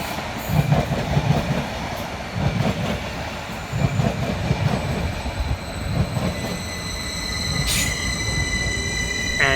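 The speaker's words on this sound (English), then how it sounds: "Arriving next into the station will be 7:45:104, working the 13:12 Greater Anglia service from London Liverpool Street through to" Greater Anglia passenger train passing through Seven Sisters station, a steady rumbling roll with rhythmic wheel clatter and a brief high squeal of wheels on the rails near the end, close and sustained throughout.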